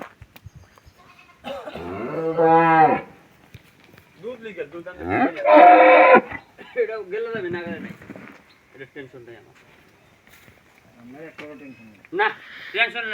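A dairy cow in a village moos a few times, long drawn-out lows spaced apart, with people talking in between.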